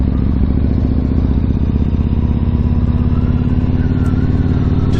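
Yamaha MT-01 motorcycle ridden on a winter road during a morning commute through town in Somerset, its big engine giving a steady, loud, close rumble with throbbing low pulses throughout, no pauses.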